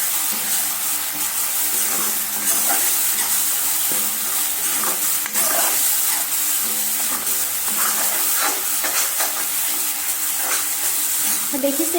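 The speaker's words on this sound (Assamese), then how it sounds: "এইখিনি মই অকণমান ধুনীয়াকৈ মানে হেৰি কৰি দিম, নহ'লেতো আদা নহৰু পিঁয়াজ কেঁচা ভাজি আহিব, তাৰ কাৰণে মই এনেকৈ অকণমান ভাজি ল'ম" Ginger, garlic and onion paste fries in a little oil for a chicken pulao, giving a steady close sizzle and hiss with faint stirring scrapes throughout.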